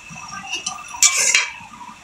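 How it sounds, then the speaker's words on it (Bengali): Raw hilsa fish being sautéed in a pan, with metal utensils scraping and clinking against it and a brief louder burst of sizzling in the middle, close by and with no talking. "এই যে দেখেন কাঁচা মাছগুলো একটু কষাই নিব।"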